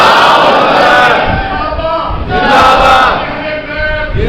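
A large crowd at an Islamic religious gathering chants "Subhan Allah" in loud unison, the voiced chant rising and falling in two strong waves.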